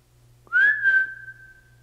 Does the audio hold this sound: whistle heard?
yes